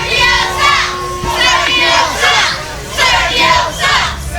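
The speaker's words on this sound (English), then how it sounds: "Wow, that's a pretty powerful chant coming from the crowd" A wrestling show crowd chants loudly in a rhythmic, repeated pattern of surging shouted phrases, many voices together in a reverberant hall, with a faint steady tone underneath.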